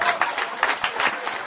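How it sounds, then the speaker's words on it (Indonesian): An audience applauds a speaker at a talk, a brief burst of dense clapping from a crowd, fairly close and lively. "tepuk tangan untuk beliau"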